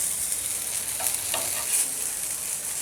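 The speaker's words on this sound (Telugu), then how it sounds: "ఇలా మొత్తం అనుకుంటూ అటు సైడ్ కూడా బాగా ఫ్రై చేసుకోండి" Veg frankie wraps frying in a pan at home, with a steady soft sizzle and a few faint stirring or turning scrapes, close and alone with no talk.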